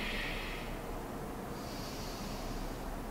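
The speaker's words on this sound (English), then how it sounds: "Take some deep breaths" Slow, deep breaths drawn in and let out during a gentle stretching yoga session, a steady airy hiss that rises and falls over a few seconds, close and fairly quiet, with no talking.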